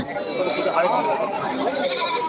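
Bleating goats mingle with a voice and chatter at a livestock market, the wavering cries close and repeated.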